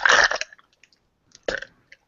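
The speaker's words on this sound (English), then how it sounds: "He says, burping joyously." A man lets out two short burps, a loud guttural one first and a second, slightly softer one about a second later, close up with quiet in between.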